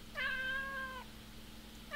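A kitten in the video game Alice Mare gives one clear, drawn-out meow over a low steady background hum, with the start of another meow at the very end.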